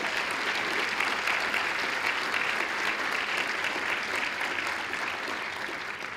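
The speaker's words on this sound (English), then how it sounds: "I think we should give Larry a nice round of applause for all his service" Sustained applause from a roomful of people at a university alumni hall of fame induction ceremony, steady and fairly loud throughout, with no breaks.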